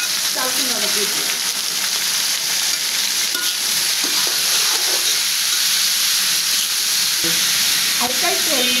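Ash gourd and fried onions sizzle and hiss steadily in a hot pan, with scattered scraping stir strokes throughout; loud, continuous and close, with no talking.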